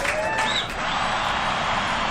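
Audience applause at a comedy show, a dense burst of clapping from a crowd that carries on evenly throughout, with a few brief tonal sounds near the start.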